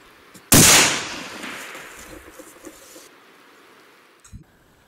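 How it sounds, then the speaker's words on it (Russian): A single sharp, loud shot from a Tikka T3x Lite .308 rifle cracks out near the start, then a long echo rolls away; a faint thump follows near the end. "Внимание, выстрел."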